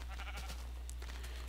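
A faint, brief sheep bleat from Minecraft sits in a steady low hum with soft game sounds around it.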